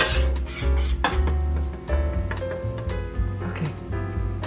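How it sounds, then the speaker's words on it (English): Seasonings are whisked together in a bowl, giving quick scraping and clinking strokes that repeat in bursts. Low tones sound underneath throughout. "and then take a whisk"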